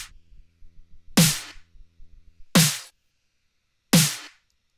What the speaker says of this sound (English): Together, the three snares sound like this.